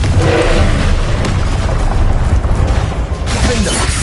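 Confringo fire spell blasting in Hogwarts Legacy, a loud, dense, continuous explosive roar with crashing, booming texture filling the whole moment.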